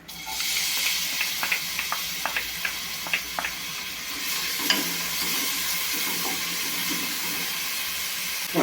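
Chopped onion hits hot oil in a cooking pot and sizzles loudly and steadily up close, with a series of light clinks and stirring scrapes spread through the frying.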